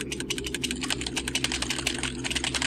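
Rapid, dense keyboard mashing while playing S.T.A.L.K.E.R.: Call of Pripyat, a fast irregular clatter of keystrokes over a steady low hum, close and continuous with no talk.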